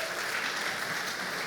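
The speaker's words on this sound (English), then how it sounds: "a round of applause to Holly" Applause from an audience at a community foundation's annual meeting, a dense, even wash of clapping held steady for a moment at moderate distance.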